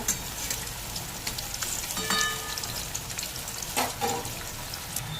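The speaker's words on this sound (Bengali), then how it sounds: "তেল গরম হয়ে গেছে, আলুগুলোকে আমি ছেড়ে দিচ্ছি।" Boiled potatoes fry in hot refined oil, an even close crackle and spitting sizzle with scattered sharper pops.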